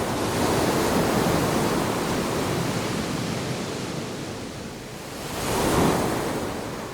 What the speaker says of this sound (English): The jetties are ineffective against the raging storm. It seems as if the angry sea is trying to swallow up Santa Cruz